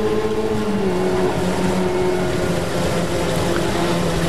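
Historic Formula Ford race cars at Snetterton, heard on track near Coram corner, give a loud, steady engine drone with layered harmonic tones and no speech, sustained throughout.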